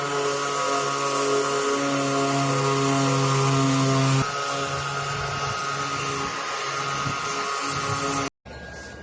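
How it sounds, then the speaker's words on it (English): A power sander runs continuously on a Honda CR-Z Noblesse wing spoiler, a loud, steady whirring drone with a shift in pitch partway through, then a sudden brief cutoff before it resumes. "we're sanded down to about 400 now"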